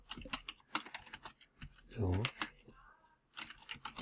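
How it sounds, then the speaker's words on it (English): Rapid typing on a computer keyboard: quick, irregular bursts of close, crisp key clicks and taps, with a brief murmur of speech in the middle and short pauses between runs of keystrokes. "We're just going to type it in."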